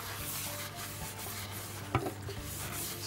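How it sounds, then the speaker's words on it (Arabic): Soft rubbing and scraping as a drop of oil is spread across the bottom and sides of a baking tray, quiet and close, with one brief louder knock partway through. "فهنحط نقطه زيت وندهنها كده تحت وعلى الجناب"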